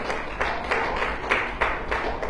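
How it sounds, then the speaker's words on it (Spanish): A church congregation claps loudly during a Spanish-language Sunday service, with a steady roar of hands and a few sharper rhythmic accents recurring about every third of a second. "¡Denles aplauso fuerte!"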